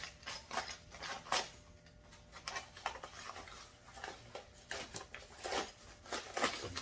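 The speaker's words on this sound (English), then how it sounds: "Get into this bag of bolts." A plastic bag of metal bolts for a VEVOR garden cart being opened and rummaged through, with quiet crinkling and irregular light metallic clinks and rattles scattered across several seconds, fairly faint and close.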